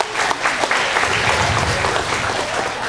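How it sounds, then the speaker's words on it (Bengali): Loud, full applause from an audience at a Bengali cultural performance in Montreal, a dense, continuous roar of many hands clapping close by with a low crowd murmur underneath. "ওনার উদ্দেশ্যে একটু জোরে হাততালি"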